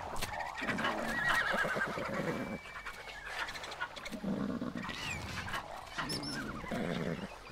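Horses neighing in the Dinosaurland video game: several overlapping whinnies and snorts in a busy, continuous stretch, fairly faint, with some clopping and breathy panting mixed in and no talk.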